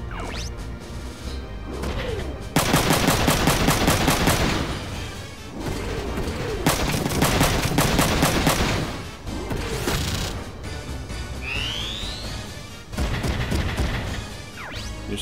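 Machine gun fire in the video game Front Mission 3: long, loud bursts of rapid repeated shots with heavy crashing impacts, stopping and starting several times, backed by game sound effects and no speech.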